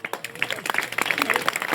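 An audience claps in quick, uneven bursts while a voice talks over the applause.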